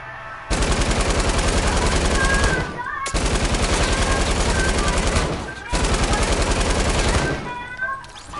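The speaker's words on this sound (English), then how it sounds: "you can say hello to my LMG now" A light machine gun fires in a video game in three long, rapid bursts, each lasting a couple of seconds with brief gaps between, loud and close.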